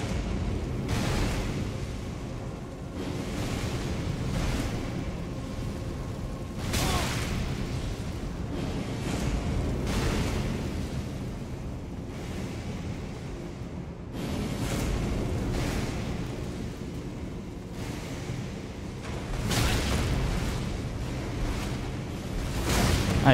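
A big imp cannon firing repeatedly in Elden Ring Shadow of the Erdtree, booming blasts every few seconds over a rumbling battle backdrop, with no voices.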